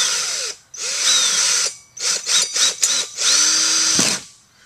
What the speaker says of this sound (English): Just gonna put this drill bit right on there.